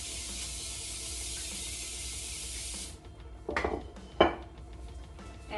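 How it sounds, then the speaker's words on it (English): A pan is handled in a home kitchen while making white bread: steady spray hiss from greasing the bread pan cuts off, then two sharp metallic clanks of the pan being set down, close and without talk. "grease our pan"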